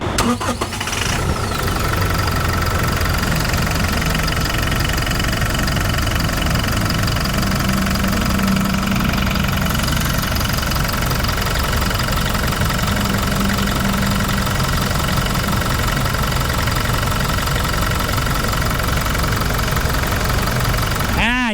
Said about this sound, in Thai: เดี๋ยวฟังเสียงเครื่องกันฮะ